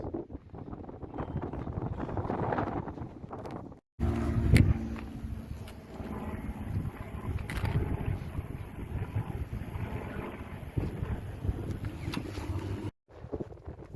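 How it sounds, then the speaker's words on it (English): Gusty wind on a South Downs hilltop buffets the microphone in loud, uneven rushes, cutting out briefly twice, with no voices heard. "Especially considering how windy it is."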